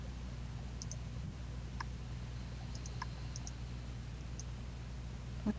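Computer mouse clicking while playing Seeds of Resilience on PC, a handful of faint sparse clicks spread over a few seconds against a steady low background hum.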